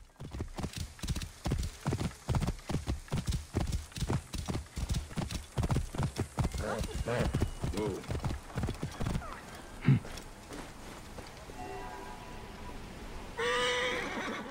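Horse hooves clip-clop steadily in Assassin's Creed Origins, a fast galloping rhythm of loud close hoofbeats through most of the passage, slowing near the end as a horse whinnies.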